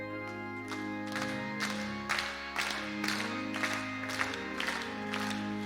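Church congregation clapping hands together in a steady beat over organ or keyboard accompaniment during a hymn at a Wednesday evening service, with regular rhythmic claps throughout.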